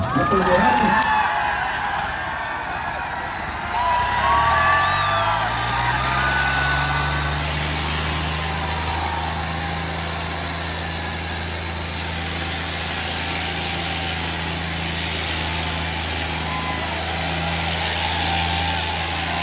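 A John Deere 3100 tractor engine runs steadily after a starting burst, settling into a low, even idle that holds close by for the rest of the time, with people talking in the background.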